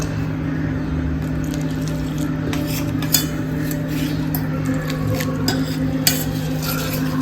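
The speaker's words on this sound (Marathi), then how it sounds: "हळूहळू पाणी घालून मिक्स करायचे कारण नाहीतर त्याच्या गुठळ्या राहतात" Batata vada batter seasoned with salt, chili powder and baking soda is mixed as water is slowly added, giving a steady wet churning with occasional light scrapes and taps of the utensil against the bowl, close up.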